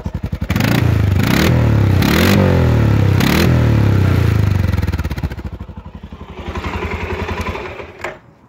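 Close to the exhaust of a 2018 Arctic Cat Alterra 700 ATV, loud rhythmic revs rise and fall several times, then the engine drops back to a lower, uneven idle rumble.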